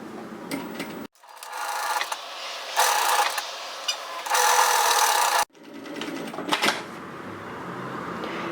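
A sewing machine stitches around a fabric face mask, leaving a gap for turning, with loud bursts of rapid mechanical whirring broken by short pauses and a sharp click between runs.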